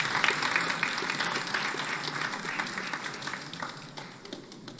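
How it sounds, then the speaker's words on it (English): An audience at a university anniversary concert gives a round of applause, dense clapping that starts strong and gradually thins and fades over a few seconds. "Let's give her a round of applause."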